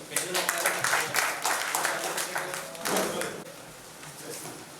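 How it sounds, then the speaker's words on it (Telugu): Audience applause at a public meeting in Atmakur mandal, Yadadri Bhuvanagiri district: a few seconds of scattered, fairly loud clapping that fades toward the end, with voices talking over it. "క్లాప్స్ కొట్టండి"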